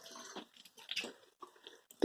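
Rainwater is poured onto garden plants in Mesa, Arizona, in short soft splashes and trickles, close and quiet, with a sharper splash at the end.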